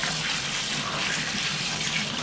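Leaves washed under a running kitchen tap, a steady broadband rush of water that stays loud and even from start to finish, with no voices over it.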